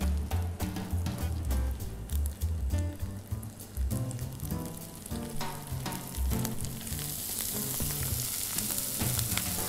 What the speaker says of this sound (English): Once the pan is hot, I'll add a little bit of the fat.